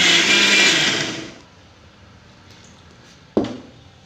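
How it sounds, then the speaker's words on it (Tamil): A mixer grinder on pulse mode grinds onion and spices with a loud whirring burst lasting about a second and a half. It cuts off into quiet, followed later by one sharp knock. "பல்ஸ் மோடில் ஒரு 2 சுற்று சுற்றி 1-2 அரைஞ்ச மாதிரி வலிக்கணும்"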